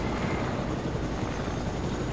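Steady helicopter rotor drone from Fortnite, continuous and fairly loud throughout with no talking.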